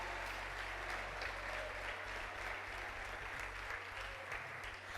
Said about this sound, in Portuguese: Um minuto aplaudindo e glorificando o nome do Senhor